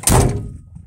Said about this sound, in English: All right, we get the door closed.